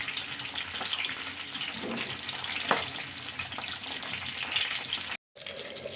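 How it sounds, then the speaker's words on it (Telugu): Bitter gourd (kakarakaya) pieces frying in hot oil, giving a steady, close sizzle with faint scraping and stirring, a brief gap near the end, and no talk. "ఇట్లా ఎర్రగా కాకరకాయలు వేయించుకోవాలండి"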